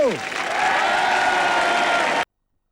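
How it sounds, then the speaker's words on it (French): A studio audience applauds on the set of a French TV magic show, a dense, even wash of clapping that holds steady and then cuts off abruptly, with a voice briefly audible at the start. "On peut les applaudir."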